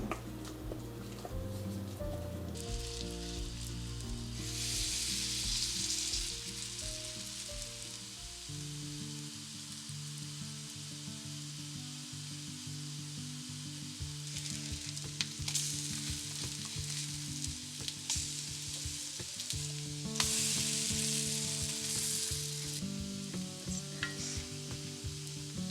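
A starch and flour coated snack seasoned with garlic or onion powder and salt frying in a pan, with continuous loud sizzling and occasional stirring under background music, close and steady with no talk.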